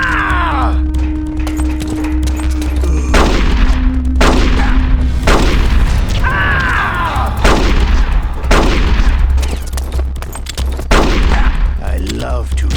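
Repeated loud gunshots and blasts in Metal Gear Solid: The Twin Snakes, a rapid run of sharp cracks over a steady low game hum, with no talk.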